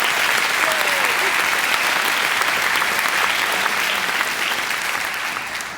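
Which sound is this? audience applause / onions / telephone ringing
audience applause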